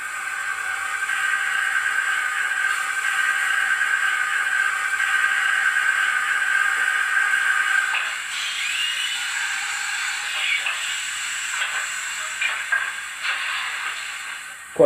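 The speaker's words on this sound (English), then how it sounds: "Injector blower." A continuous steam hiss from a model steam locomotive's injector blower, with a faint whistling tone, runs steadily, then turns rougher and more broken toward the end.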